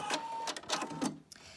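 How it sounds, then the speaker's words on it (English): A Husqvarna Viking Opal 690Q sewing machine runs its automatic thread scissor cut, a brief close mechanical whirring and clicking burst from the motor and cutter, ending in a short snip and fading. "And now I'm going to use my scissor cut on my machine."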